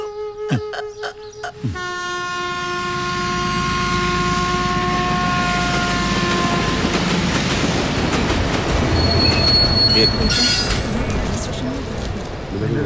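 A train rolls along the rails, building from a few clanks to a loud, sustained rumble with rhythmic wheel clatter and a high metallic squeal, close by, with voices speaking over the start.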